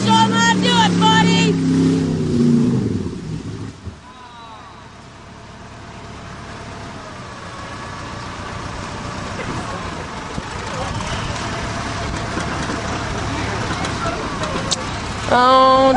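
A truck engine revs and roars through a mud bog, loud and sustained with surging, and spectators shout and talk over it.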